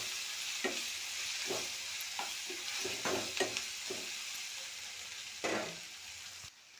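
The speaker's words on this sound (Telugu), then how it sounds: "ఇంకొంచెము ఎర్రగడ్డలు ఫ్రై చేసుకోవాలి." Onions fry in a pan with chili powder, coriander powder and garam masala, a soft, steady sizzle punctuated by a series of spatula taps and scrapes as they are stirred, heard alone.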